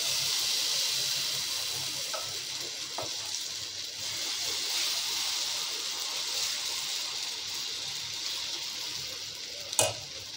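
Hot refined oil hisses and sizzles steadily in a pan ready for aloo paratha, a continuous close frying hiss with a few small pops and one sharper crackle near the end, no talking.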